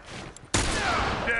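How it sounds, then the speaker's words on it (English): Gunfire in a video game: a loud burst of rapid shots starts abruptly partway through and keeps going, with quieter game noise before it. "Who's shooting at me?"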